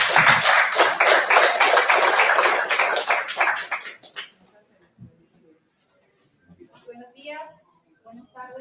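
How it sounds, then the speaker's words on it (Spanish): Loud, dense applause from an audience at a political rally in Lima greets a youth collective speaker for about four seconds, then stops abruptly, leaving quiet moments and a voice beginning to speak. "Fuertes aplausos."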